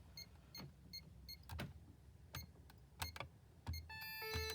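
A Pyronix Euro 46 alarm panel chimes in short repeated beeps and tones, clicks and key presses interspersed, ending with a sustained multi-tone chime, heard close indoors without speech.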